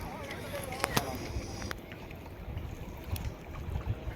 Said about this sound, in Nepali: डुङ्गा त फास्ट गइरहेछ त ल पोखरामा आएर डुङ्गा चढायो